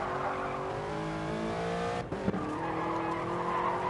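A race car in a GR3 racing game running at high revs with tyre squeal and skidding, broken by a brief crash impact near the middle before the engine drone carries on.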